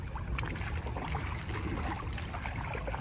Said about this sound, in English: So I'm paddling on my knees